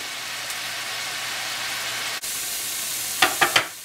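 Comb tooth mushrooms frying in a pan give a steady, close hiss and crackle throughout, broken by a brief dip and then three quick clinks or scrapes near the end.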